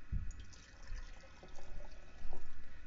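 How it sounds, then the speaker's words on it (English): Boiling water pours into a glass jar that was sprayed with hairspray, a low splashing, filling rumble that builds steadily over a few seconds, close and alone with no talk. "Now pour in that boiling water."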